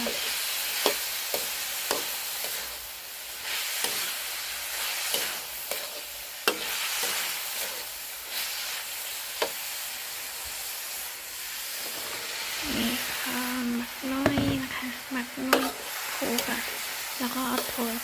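Meat being stir-fried in a pan for an evening meal at a temple, with hissing sizzle, scraping stirs and clinks of the spatula throughout, and someone talking over it.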